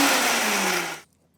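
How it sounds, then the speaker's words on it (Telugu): An electric mixer grinder whirs loudly as it blends taro root and ginger, a steady high-pitched grinding roar that runs for about a second before cutting off abruptly into quiet. "ఆ చామగడ్డ, చల్లగయ్యి, అల్లం, ఇవి 2 ఫస్ట్ మిక్సీ చేసుకోవాలి"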